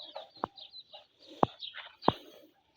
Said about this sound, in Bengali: দেখেন আমার মুরগিগুলো সব ছেড়ে দিছি বাইরে